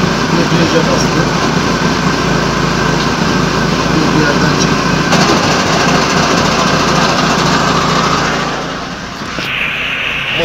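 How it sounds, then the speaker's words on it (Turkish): A car engine runs with the clutch pedal pressed, its gearbox input side giving a loud, close, steady mechanical whir and rattle picked up from beneath the vehicle, which dips briefly near the end before settling again. "Bu ses şanzımandan gelmekte ama şanzımanın giriş kısmından, yani baskı vata kısmından gelmekte."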